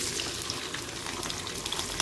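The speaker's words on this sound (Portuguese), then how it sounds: "O alho já começou a dourar" Garlic fries in oil on a wood-fired stove, a steady dense sizzle and crackle with small pops, close and continuous.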